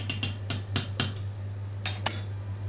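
Metal clinks and taps as a lid goes onto a pot of koshari, several sharp knocks in quick succession, a pause, then two more, over a steady low hum.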